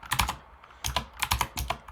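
Keys clatter on a computer keyboard in two quick bursts of typing separated by a short pause, close and fairly quiet.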